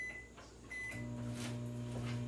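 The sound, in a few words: microwave oven melting butter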